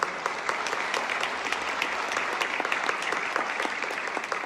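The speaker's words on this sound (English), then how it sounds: "Applause, please." An audience at the grand re-opening of the Egyptian Theatre applauds the project architect, a dense, steady round of clapping sustained at even loudness throughout, with no voices over it.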